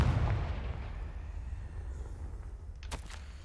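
Confringo blasting spell from Hogwarts Legacy going off as a heavy, booming explosion that starts loud and fades into a long low rumble, with a faint crackle near the end.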